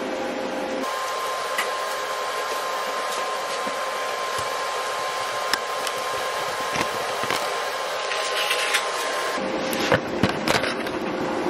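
A YesWelder 250-amp AC/DC TIG welder with pulse capability runs while welding aluminum, giving a steady, loud buzzing hiss that holds unbroken for the whole stretch, with no talking.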